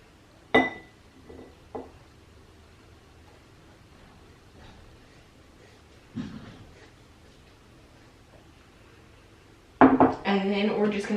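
A utensil clinks a few times against a bowl while heavy whipping cream, vanilla and powdered sugar are combined, the scattered taps ending in a louder burst of stirring.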